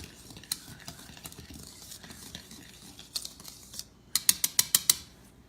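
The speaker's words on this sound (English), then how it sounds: "I'm just gonna whisk this together just to make sure that there's no clumps" A whisk scraping and clicking through cocoa powder and salt in a bowl, faint and irregular at first, then a quick run of sharp metallic taps near the end.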